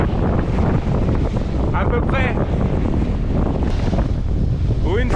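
Strong 20–25 knot wind roars steadily across the microphone aboard a sailboat off Finistère, with waves and water rushing beneath and someone speaking briefly in French.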